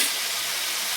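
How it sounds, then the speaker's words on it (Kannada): Oil spooned into a hot pan over eggplant and potato pieces gives a steady, bright sizzling hiss that holds evenly through a single second, with no voices. "ಈಗ ಎಣ್ಣೆ ಹಾಕ್ತಿದ್ದೀನಿ"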